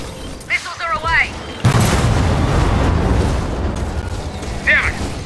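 Missile airstrike explosion in Gears of War 4, a sudden heavy boom with a long rumbling tail, preceded and followed by brief wavering electronic chirps.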